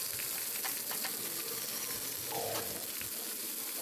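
Mixed vegetables frying with cloves and cinnamon in a pan, a steady dense sizzle with faint stirring scrapes throughout, no voices.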